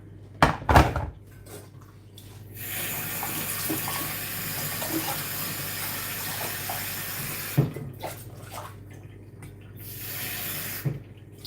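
Warm water pours steadily from a container into a bowl to mix puff puff dough, a continuous close splashing stream after a few knocks of handling, then another short pour near the end.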